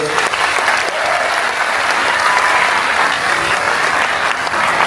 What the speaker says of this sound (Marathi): ह्या सगळ्यांसाठी जोरदार टाळ्या होऊन जाऊ दे